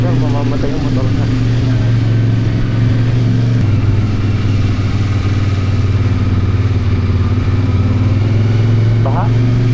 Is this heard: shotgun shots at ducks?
no